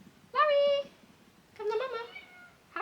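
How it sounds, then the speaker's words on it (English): A pet cat meows three times indoors, close and fairly loud: a clear first call, a longer wavering one after a pause, and a third starting at the end. "My other cat's just come in the room."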